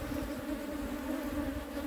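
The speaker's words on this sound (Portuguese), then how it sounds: "As abelhas eu já vi ali que estão estocando" A swarm of honeybees humming steadily around a hive of a freshly captured swarm, a continuous close, even drone without pauses.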